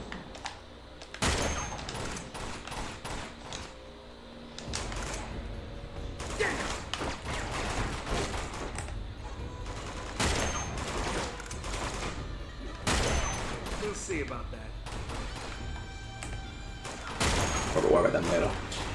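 Rapid bursts of automatic gunfire from a bridge firefight in Uncharted 2: Among Thieves, with repeated volleys and sharp cracks spread through the stretch, heard under steady conversation from players.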